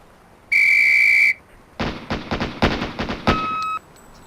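A sharp whistle blast sounds once in the police tactical game Police Quest: SWAT, followed by a quick burst of rapid gunshots and a final short electronic tone.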